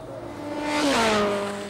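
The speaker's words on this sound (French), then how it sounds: "c'est une moto qui vient de passer à grande vitesse" A motorcycle tears past at high speed on a highway, its engine note rising as it nears, sliding down in a clear Doppler drop as it passes close and loud, then fading.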